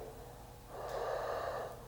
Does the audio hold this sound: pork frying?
no